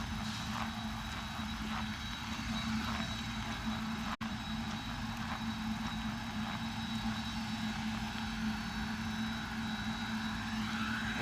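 Jet aircraft near an airport terminal keep up a steady, even engine roar and whine at a moderate distance, unbroken for the whole stretch.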